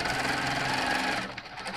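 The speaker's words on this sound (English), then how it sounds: "just taking a couple stitches" Quilting sewing machine stitching a border, a close, steady rapid mechanical whir and clatter that slows and stops after about a second.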